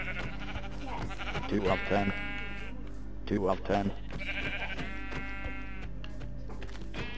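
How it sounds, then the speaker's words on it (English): Sheep in Minecraft bleat in several drawn-out, wavering calls, fairly close and loud, while a person keeps counting aloud between them. "Look at how many sheep spawned."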